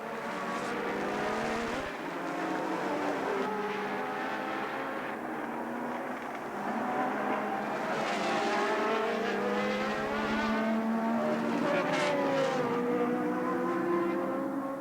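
1982 Formula 1 cars, Renaults and Ferraris, racing at a Grand Prix, with engines screaming and rising and falling in pitch as cars pass continuously at fairly close range.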